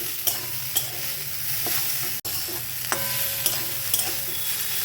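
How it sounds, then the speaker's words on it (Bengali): Banana stem fries in a pan, a steady sizzle broken by several sharp scraping strokes as a spatula stirs it, close and clear with no talking. "ঢাকনাটা সরিয়ে মিডিয়াম ফ্লেমে আরও দু মিনিট ভেজে নেব"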